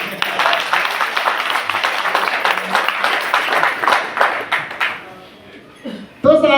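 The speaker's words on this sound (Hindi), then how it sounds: "अरे ताली बजाना तो अच्छे से बजाना" An audience at a UseMe event in Jaipur claps and applauds in a dense, sustained burst for about five seconds, then the clapping thins and fades before a voice starts speaking.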